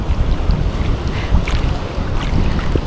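Loud rushing water and churning waves with heavy wind buffeting the microphone, continuous and close by, no voices.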